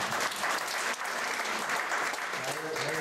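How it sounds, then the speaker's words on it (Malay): Audience applause at a leadership gathering, a dense steady clatter of many hands filling the whole stretch, fairly distant and even, with a voice faintly under it. "Bagi tepuk tangan pada akak."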